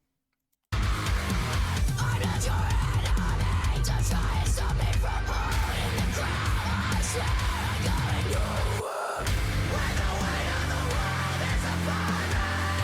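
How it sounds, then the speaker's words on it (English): Harsh screamed metal vocals in a song ride over a loud, dense band that plays without pause. The whole mix drops out briefly about nine seconds in. "I wonder if the judges are like, oh my god, somebody's screaming"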